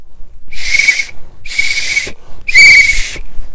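A voice imitates a railway guard's whistle with three breathy, hissing whistle blasts of about half a second each, evenly spaced and close.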